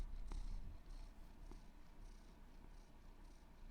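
A cat named Bagel purring close to a microphone, a faint, steady rumbling that runs throughout with soft rhythmic pulses.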